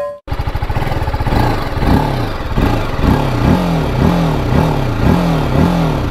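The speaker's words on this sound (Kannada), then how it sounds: "ಈ ಗಾಡೀಲಿ ಟೋಟಲ್ಲಿ ಬಿಟ್ಟರೂ ಇನ್ನೂ ಸ್ವಲ್ಪ ರೆವಿಂಗಲ್ಲೇ ಇರುತ್ತೆ ಕ್ವಿಕ್ಕಾಗಿ ರೆವ್ ಡೌನ್ ಆಗಲ್ಲ ಗಾಡಿ" A TVS Apache RTR 310 motorcycle engine starting and then revved repeatedly, loud and close, each throttle blip rising and slowly falling back in a regular rhythm.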